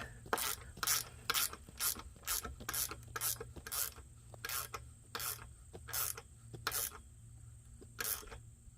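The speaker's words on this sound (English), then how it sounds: "So let me get this last bolt moved." A ratchet wrench tightens a bolt on a hoop house frame, giving about a dozen rhythmic ratcheting bursts with brief pauses between strokes, close and clear.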